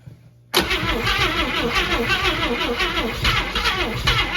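A Tri-Five car that sat for thirty-seven years cranks and then catches, its engine roaring loudly and running steadily and close, with some voices nearby.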